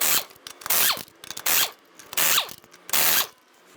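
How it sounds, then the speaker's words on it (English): A hand ratchet with a 19mm socket working loose the lug nuts on a Ford Explorer wheel, four bursts of rapid clicking, each a quick ratcheting stroke separated by short pauses, close and clear. "Using a 19mm socket, loosen and remove your lug nuts."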